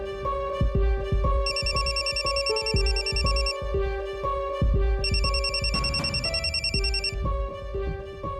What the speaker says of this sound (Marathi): बघ तिचाच फोन असेल.